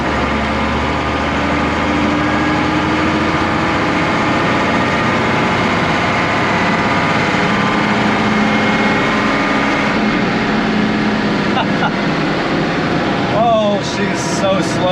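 A Unimog truck rolls at full throttle in third gear with a loud, steady, droning engine roar and whine, joined near the end by a few faint squeaks.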